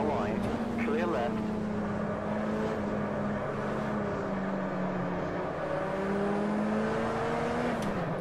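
Race cars in the racing game with a Puma P052 at Guapore, a loud, steady engine drone with rising and falling pitch as a rival car runs alongside and pulls past, a spotter's voice talking over it.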